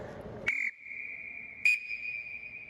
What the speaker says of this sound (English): I'm going to blow the Acme while Brett blows the other, and you'll see the difference.